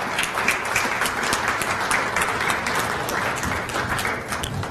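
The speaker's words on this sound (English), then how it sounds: "Give him yet again another applause." A seated audience applauds the Prime Minister at the opening ceremony of a national economic consultation. The clapping is dense and steady, filling the whole stretch at a fairly loud level, with no talking.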